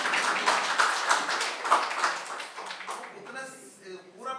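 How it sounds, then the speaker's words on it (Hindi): A group of children claps hands in a classroom, a burst of quick, overlapping claps mixed with voices talking over them, trailing off toward the end. "ताली बजाओ।"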